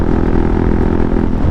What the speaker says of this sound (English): This exhaust is loud, man.